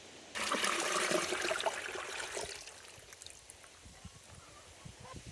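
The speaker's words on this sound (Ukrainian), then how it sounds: "І заливаємо нашу воду з цукром до нашої смородини." Sugar water pours onto blackcurrants for wine in a thick, steady splashing stream for a couple of seconds, then tapers to a softer trickle and faint drips.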